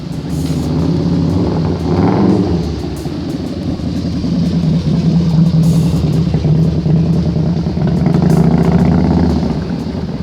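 A KTM 790 Duke's 799cc two-cylinder engine rumbles loud and near, with throaty rising surges as it revs, continuous throughout with no talking.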